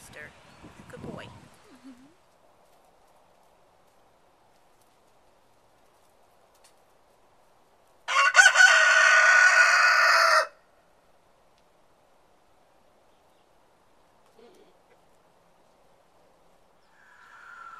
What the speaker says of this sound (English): And he's also a very nice rooster.